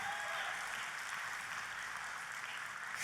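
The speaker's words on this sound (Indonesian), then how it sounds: "Tepuk tangannya yang paling meriah buat Tuhan kita." A church congregation applauding together during a sermon, a steady, dense wash of clapping that holds at an even level throughout with no voices over it.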